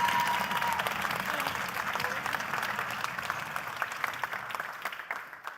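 Audience applause fills a science contest forum hall, a dense wash of many hands clapping that gradually thins and fades toward the end.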